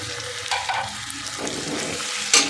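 Chopped chili sizzling and frying in a pan with garlic and ginger, a steady close crackle with a brief sharper burst near the end, no talking.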